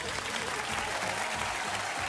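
Television studio audience applauding on a Peruvian talk show set, a brief, steady wash of clapping with a faint voice underneath.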